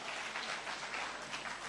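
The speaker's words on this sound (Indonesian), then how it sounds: "Berikan tepuk tangan" A church congregation applauds during a sermon, a steady wash of clapping from many hands that stays even and fairly close for the whole stretch, with no voices rising above it.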